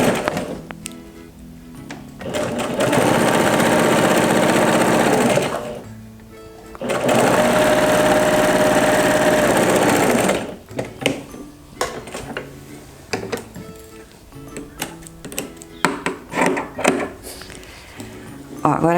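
A sewing machine stitches a quilt to join the batting in two loud, steady whirring runs at close range. Scattered taps and knocks of fabric handling follow.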